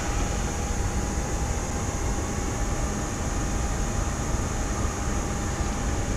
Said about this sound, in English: So now we're essentially taxiing on grass.